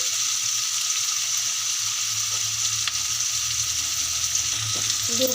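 Turmeric powder and spices fry in oil in a pan for avarekalu upma, a loud continuous hiss and sizzle heard up close, with faint stirring scrapes near the end.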